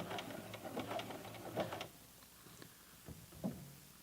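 A sewing machine runs a zigzag stitch joining the ends of elastic, giving short bursts of quiet rapid needle clatter separated by pauses, faint and close.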